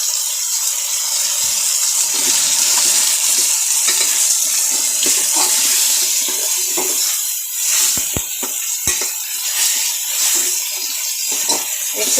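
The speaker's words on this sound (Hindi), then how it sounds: "एक से 2 मिनट आलू को भूनेंगे," Potatoes frying and sizzling in spiced masala for aloo pulao, a steady loud crackling hiss throughout with occasional stirring scrapes and clicks, no talking.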